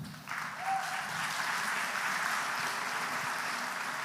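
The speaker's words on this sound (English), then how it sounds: "And applause for Tanya." Sustained applause from a conference audience at a live tech challenge event, steady and dense, rising after a brief quiet start and holding through to the end.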